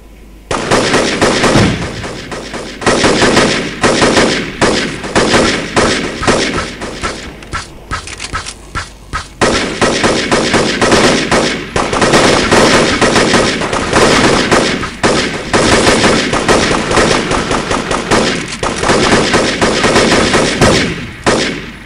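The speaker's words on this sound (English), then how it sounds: "What the hell is shooting at me now? Don't they know I don't like being shot at?" Enemy gunfire in the video game Devastation, sustained loud automatic bursts and rapid shots nearly nonstop with brief pauses, dense and close.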